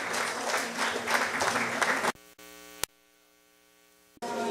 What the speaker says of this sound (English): Natalia Phillips, let's give her a round of applause